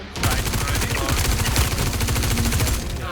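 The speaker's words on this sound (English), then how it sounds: "I hear gunfire." Rapid sustained automatic gunfire in the video game Star Citizen, dense and loud, with a voice talking underneath.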